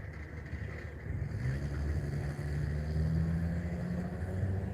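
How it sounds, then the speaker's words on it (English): A hot rod car rumbles past outdoors, a deep steady engine drone that swells slightly as it nears, without talking over it. "That's a hot rod."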